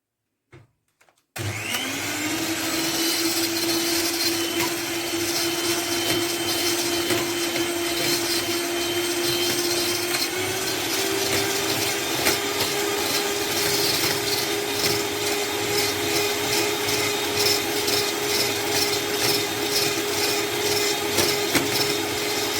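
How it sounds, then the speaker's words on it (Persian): An electric hand mixer whips hot boiled sugar syrup for a Christmas wreath cookie, starting with a click and then a loud, steady motor whine that holds for the rest of the clip while its pitch shifts up slightly. "حالا الان با همزن انقدر رو هم میزنیم تا سفید و کشدار بشه"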